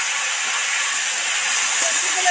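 Vegetables sizzling as they fry in hot oil with five-spice, dried red chilli and bay leaf, a steady, loud, bright hiss throughout with no talking.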